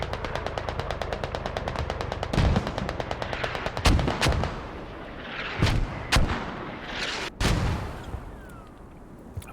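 Mortar and gunfire in the tactical shooter game Squad during a competitive match, with rapid machine-gun bursts and several heavy booming impacts spread across the clip, loud and close with no talk.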